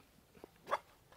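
A dog lets out a soft, brief whimper, a short whine rising over a quiet background with a faint tap just before it, no talk.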